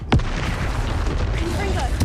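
A Confringo fire spell explodes in Hogwarts Legacy, a sharp boom near the start and another near the end over a dense rumbling game battle, with voices calling out spells.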